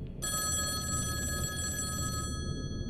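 A telephone bell rings continuously for about two seconds, a bright, steady electronic trill that starts abruptly and stops sharply, over a low background hum.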